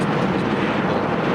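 Steady broadband rotor-and-engine roar from firefighting helicopters carrying water buckets, continuous and loud with no breaks or voices over the short stretch.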